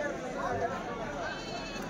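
Goats bleat in wavering cries over a busy market hum at a weekly sheep and goat market in Kadiri, with people talking nearby.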